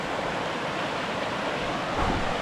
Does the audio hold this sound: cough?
no